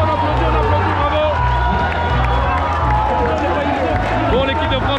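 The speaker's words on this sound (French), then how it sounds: "Bravo, on applaudit, bravo." A large crowd at a Kings World Cup football match in Mexico cheers and claps after the French team's defeat, a loud, dense roar of voices and applause with a low rhythmic thumping underneath throughout.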